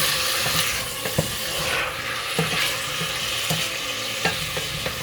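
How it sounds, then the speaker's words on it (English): Pork loin with torn bay leaf is stirred in a pan with very little oil, giving a close, busy frying sizzle broken by regular scraping and clacking of the spoon against the pan, with no voices. "Going to give this a good mix."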